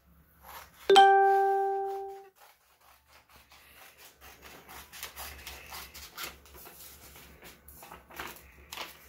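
Scissors cut paper pictures along dotted lines. A bright ringing chime comes first and fades over about a second, then soft, close, irregular snipping and rustling of paper follows quietly, with no talk.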